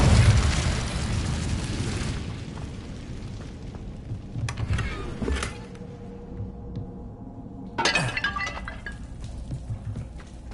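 Incendio fire spell cast in Hogwarts Legacy: a loud burst of fiery crackling and roaring, fading into a rumbling bed with a couple of later sharp bright magical flashes.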